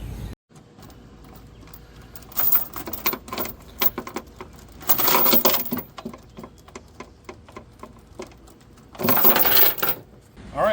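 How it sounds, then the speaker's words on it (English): Metal chains for a homemade gantry chain hoist are pulled and strung across the frame, giving quiet clinking and rattling in bursts with two louder stretches of jangling metal. "I'm going to start stringing the chains across"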